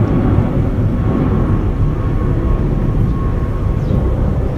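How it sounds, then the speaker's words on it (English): Airplane passing overhead in Chiang Mai, a steady broadband engine roar that holds loud and even throughout, with no voices over it. "The airplanes are always flying over us."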